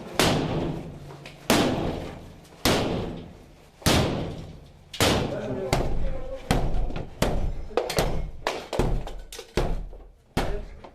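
Police pound on a door during a raid, a series of heavy thuds and slams in uneven bursts, some single and some in quick runs, each ringing out loudly and close.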